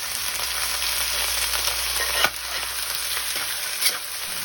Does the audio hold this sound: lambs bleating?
no